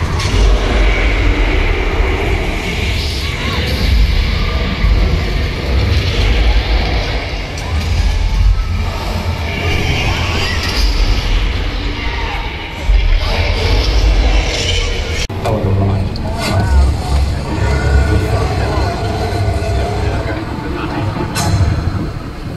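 A loud, continuous rumble of the runaway train attraction on the Universal Studios Hollywood studio tour rolling along, with rattling, clanking and a steady roar throughout, muffled voices mixed in.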